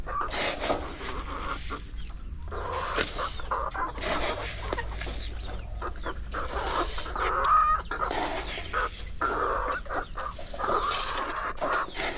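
Many chickens on layer feed cluck and squawk continuously nearby, a busy overlapping chorus with a low hum underneath.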